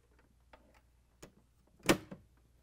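The ice bin latch on a Whirlpool, KitchenAid or Maytag refrigerator gives a few faint clicks, then one sharper snap as it closes, followed by a small click, with quiet in between.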